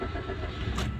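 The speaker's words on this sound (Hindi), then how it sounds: "इग्निशन ऑफ करना है, गाड़ी को दोबारा स्टार्ट करना है।" A Maruti Suzuki Swift petrol engine with a camshaft position sensor circuit fault, long cranking, vibration and an unstable idle cranks and catches, a brief, close, rough mechanical rumble.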